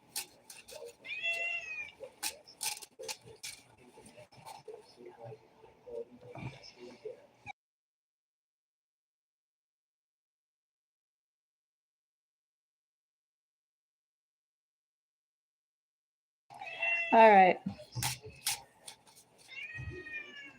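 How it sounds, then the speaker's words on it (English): A cat meows repeatedly in bursts, sometimes caught up with a person's voice speaking nearby, then a long stretch of silence before more meows and talk return. "It's like the day of meows, isn't it?"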